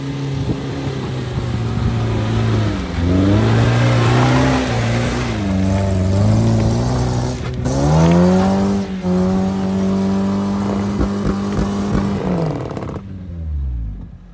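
An off-road vehicle's engine revs hard while climbing through forest mud, its pitch surging and dropping repeatedly at close range, loud and steady with little talk over it.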